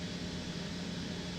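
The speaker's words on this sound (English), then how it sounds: "Oh, I'm hearing the Bell 222." Bell 222 helicopter jet engine in Microsoft Flight Simulator, in forward flight, makes a steady, dense turbine whine and roar that holds constant throughout, with no talking.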